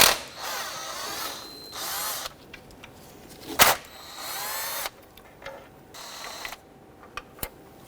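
Power tool loosening the 8mm valve cover bolts around the perimeter of a 1997-2006 Jeep Wrangler engine, whirring in several close bursts with pauses and a sharp clack between them, no talk.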